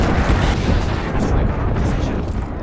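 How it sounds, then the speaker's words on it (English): Airstrike from Gibraltar's ultimate in Apex Legends, a dense, sustained barrage of deep booming explosions rumbling loud and continuous throughout, with no pause between blasts. "2 airstrikes."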